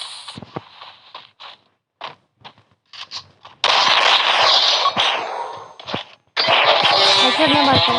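Gunfire from a shooter video game: sparse sharp shots and footsteps at first, then sustained loud bursts of firing and explosions, with a voice talking intermittently over them.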